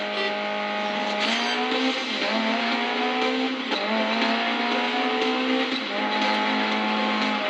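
A race car engine in the Grid Legends racing game, loud and close, revving steadily with repeated upshifts as it accelerates, without a break.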